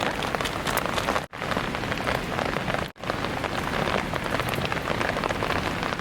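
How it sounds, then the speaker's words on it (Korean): Downpour intensifies over a wooded campsite during rainy solo camping, a thick, steady roar of raindrops drumming on nearby surfaces, close and loud, with two short gaps and no speech. "비가 지금 더 많이 내리고 있어요."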